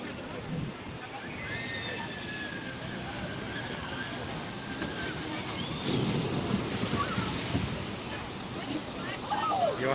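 Water rushing and splashing on the Dudley Do-Right's Ripsaw Falls log flume at Universal Studios, a steady broad wash of churning water with wind noise on the microphone. Faint voices and a whistle-like tone sit under it.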